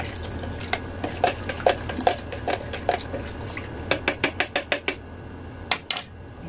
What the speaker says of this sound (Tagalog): Nararamdaman ko, lumalapot na yung ating mixture. So, haluin ulit natin to.